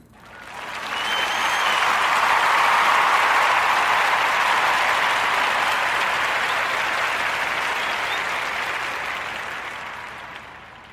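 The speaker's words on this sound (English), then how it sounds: "give our young brother Warm Narrative podcast round of applause" A live podcast audience breaks into sustained applause, swelling quickly to a dense, loud roar of many clapping hands, holding steady for several seconds and then slowly tapering off.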